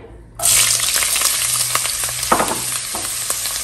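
Onion drops into a pot with a little hot oil and bursts into a loud, steady sizzle that carries on with faint stirring clicks.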